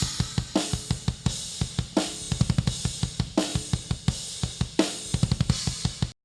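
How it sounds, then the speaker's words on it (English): A full drum kit heard through a single unprocessed kit mic, with a busy groove of kick, snare and hi-hat hits plus crash accents, played continuously with a roomy, natural tone and no voices. "let's listen to what the kit mic sounds like unprocessed"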